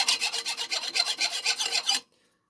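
A hand file smooths the hacksaw-cut end of an exhaust pipe: about ten quick, rhythmic rasping strokes, close and steady, then an abrupt stop into near silence.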